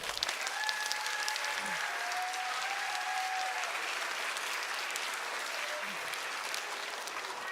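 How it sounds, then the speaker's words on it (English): A room full of people at a kindergarten event claps continuously, the applause even and sustained, somewhat distant, with a few faint tonal sounds drifting through. "Please give a nice round of applause"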